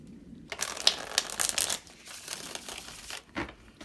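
A deck of tarot cards being shuffled by hand, a dense riffling and crinkling burst of close paper flicks lasting a few seconds, ending with a short final snap of the cards.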